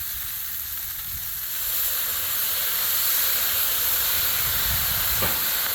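Soy sauce sizzles and hisses as meat sears on a hot Blackstone griddle: a steady, loud frying hiss runs throughout, swelling slightly partway through.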